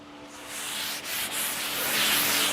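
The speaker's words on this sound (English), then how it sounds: "take my sanding sponge, knock it down a little bit, get it to smooth out" A 320 to 400 grit sanding sponge rubs down sealer on a century-old French farmhouse tabletop, a continuous close scratchy swishing with a couple of brief pauses as strokes change direction.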